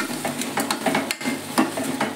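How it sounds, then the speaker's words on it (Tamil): Onions and green chillies being sautéed in a pan until golden, giving a steady close sizzle with repeated scraping stir strokes and light clinks of a utensil against the pan. "வெங்காயம், பச்சை மிளகாய் எடுத்து நல்லா பொன்னிறம் வர அளவு வதக்க வேண்டும் நன்றாக."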